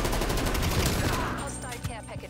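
Rapid gunfire from a modified weapon in Call of Duty: Black Ops Cold War, a dense sustained burst that thins out toward the end, with a few sharper shots near the close.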